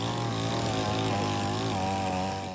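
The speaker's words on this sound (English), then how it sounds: "rescue teams used chainsaws to cut through the hull of a boat to rescue fishermen trapped inside" Chainsaws bite steadily into the hull of a capsized fishing boat during a typhoon rescue in the Philippines, a loud continuous engine drone with shifting pitch as the blades cut, no voices over it.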